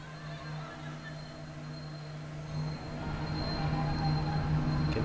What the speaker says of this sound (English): You can hear a train in the background going through downtown Tulsa